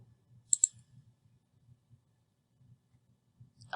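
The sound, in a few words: mouse click on sign in button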